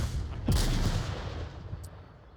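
Gunfire in the VR shooter Onward during a competitive match: a single sharp shot followed by a rumbling decay, moderately loud and somewhat distant, with no speech over it.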